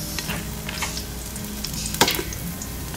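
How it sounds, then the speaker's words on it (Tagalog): Ginger and onion frying in a little oil, a dense continuous sizzle with faint stirring and one sharp clink near the end. "naglagay na ako ng konting mantika. Ilagay ko na itong ating luya."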